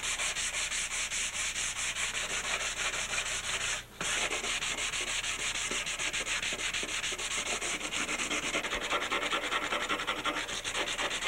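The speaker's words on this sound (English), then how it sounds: "Now we're going to start the hand sand." Hand sanding on a surfboard ding repair, a steady, continuous back-and-forth scrubbing of sandpaper close up, with one brief pause.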